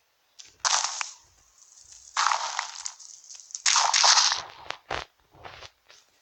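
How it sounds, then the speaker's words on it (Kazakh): Blocks broken in Minecraft, several bursts of crunchy, crumbling breaking sounds, some long and some short, close and loud, separated by brief quiet gaps. "Нуктар кірмеу үшін біз мынақты сындырамыз"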